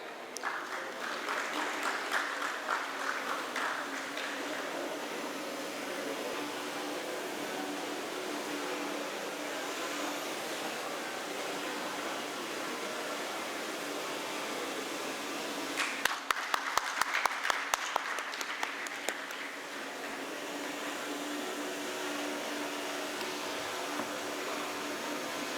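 Sustained audience applause at a design confluence and showcase in Vijayawada, a steady wash of clapping with a louder, sharper burst of close hand claps partway through.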